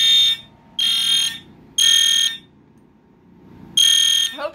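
An Edwards Integrity fire alarm horn blares in loud, harsh bursts about a second long with short gaps between them, sounding alone during a wall-mounted alarm system test.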